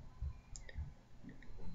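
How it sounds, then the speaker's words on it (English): A computer mouse clicks twice in quick succession, crisp and close, a faint desk-level tick pair with no other sound around it. "Double click."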